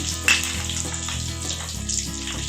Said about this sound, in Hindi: साबुत मिर्चों को मैं अच्छे से फ्राई कर लूँगी तेल में।